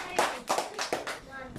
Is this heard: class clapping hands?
yes